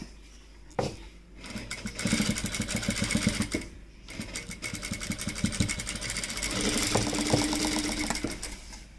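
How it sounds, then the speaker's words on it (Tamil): A sewing machine stitches a puff sleeve blouse in close, moderately loud bursts, with a clear needle rhythm in places and a brief stop near the middle before the hum continues. "ஒரு தையல் போட்டாச்சு."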